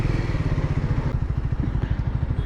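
A Triumph Scrambler 400 X motorcycle engine running steadily in a higher gear at low speed, a loud close rhythmic thumping pulse with no talk.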